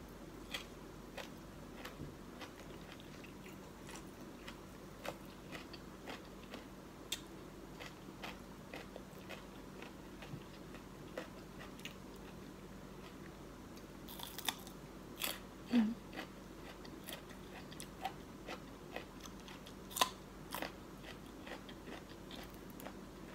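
Someone eating spicy Thai papaya salad (som tam) with pork sausage, mussels and rice noodles, with soft, close chewing and biting and a few sharper crunchy bites over a quiet room background.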